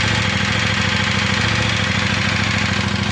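A KTM Superduke GT motorcycle engine idles at close range, a loud, even, rapid pulsing rumble running steadily throughout with no voices.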